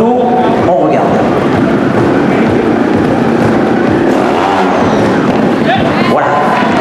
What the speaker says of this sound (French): Il va rester sur la roue arrière le plus longtemps possible pour faire pivoter l'avant de la moto.